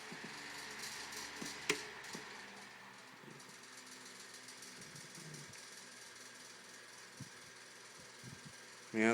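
A 1970s Sears Lasko 12-inch green table fan runs on medium, with a steady motor hum and tonal whir and intermittent light rattling from broken cage clips.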